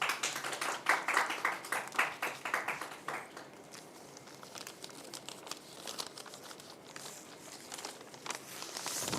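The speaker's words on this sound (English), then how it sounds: "maybe we go and unwrap it" Crinkly plastic packaging torn and peeled off a newly launched book, loud crackling bursts at first, then softer rustling and handling noises continuing to the end.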